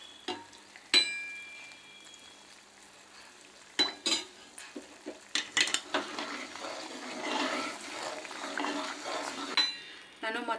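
Jaggery Mysore Pak mixture stirred in a pan, with irregular scraping and clinking of a spoon against metal, a few sharp knocks, and a soft sizzling wash building in the middle, close and moderately loud.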